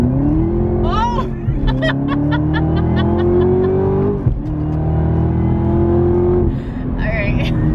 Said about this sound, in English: I really didn't expect for my tires to be spinning